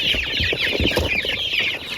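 Chickens clucking at a poultry market, a close, busy cluster of overlapping cackles and short clucks filling the whole moment with no voices.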